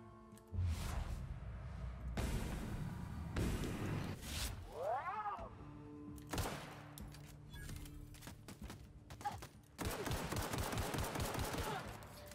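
Gunfire in the video game The Outer Worlds, with dense bursts of rapid shots and fusillades over a loud continuous game soundscape, punctuated by whooshing sweeps and a heavy volley near the end.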